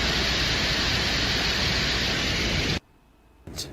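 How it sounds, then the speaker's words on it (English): A Venera 13 probe recording from the surface of Venus carries a dense, steady static-like hiss of Venusian wind that cuts off abruptly into near silence, followed by a short burst of noise. "You can hear what sounds like eerie white noise or static in the background and the gentle blow of the Venusian wind."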